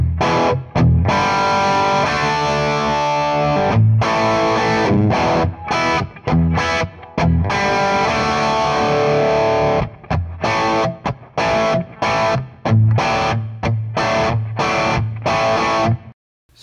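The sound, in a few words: electric guitar amp through dynamic mic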